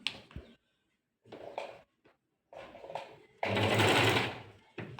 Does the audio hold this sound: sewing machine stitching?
yes